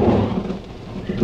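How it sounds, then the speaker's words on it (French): Thunder rumbles loudly over a heavy downpour in dark woods during a storm, a continuous, close roar of rain with deep rolling swells at the start and end. "Oh, c'est l'orage !"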